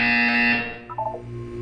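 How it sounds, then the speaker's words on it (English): A loud, steady electronic buzzer in the game Portal 2 sounds alone for about half a second, then fades into a few short, higher beeping notes. "You will hear a buzzer."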